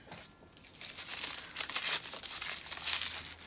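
Paper wrapping around a Fresh Spritz Dewy Face Mist bottle is crinkled and pulled open close up, with repeated crisp rustling bursts that swell louder near the end.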